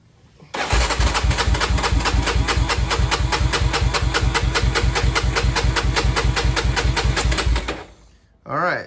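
A Honda 300 ATV engine with a stripped spark plug hole cranks or runs with loud, evenly spaced thumping pulses for about seven seconds, then cuts off, followed by a brief final burst.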